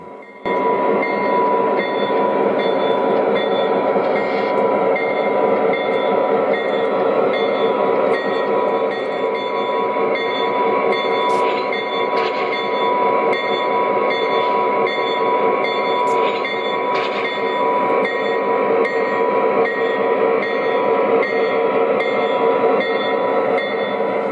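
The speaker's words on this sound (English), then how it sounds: "Junction X Conrail GP30 will shove the loaded refrigerated cars back out to the CSAO locomotives" An O gauge model Conrail GP30 diesel locomotive drones steadily while shoving loaded refrigerated freight cars that clatter along the track, with occasional faint high wheel squeals partway through.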